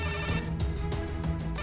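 A phone rings with an incoming call in a quiet indoor scene, a steady electronic ringtone pulsing in repeated bursts close by, with no talking over it.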